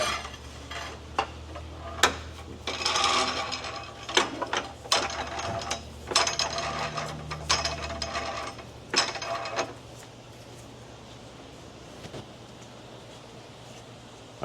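Ratchet clicking in short bursts while removing subframe bolts on a Honda, with irregular mechanical clatter and pauses, close up, before the sound drops away near the end.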